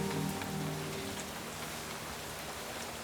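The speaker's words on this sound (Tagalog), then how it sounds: "Malakas ang ulan, ha?" Heavy rain pours steadily onto a surface, a dense continuous hiss at moderate level, with a faint low tone in the first second.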